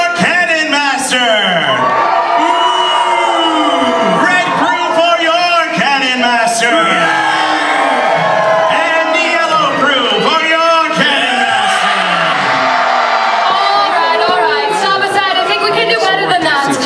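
A pirate dinner show crowd cheering for their Cannon Master, a loud dense roar of shouting, whooping voices filling the room steadily throughout.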